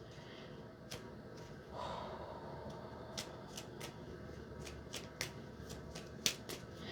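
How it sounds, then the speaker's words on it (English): Tarot cards being shuffled by hand, a quiet, close sequence of soft riffles and sharp snaps of the cards spaced through the moment. "when I was shuffling just now"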